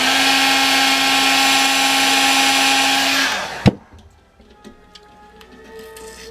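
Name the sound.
heat gun softening motorcycle tank glue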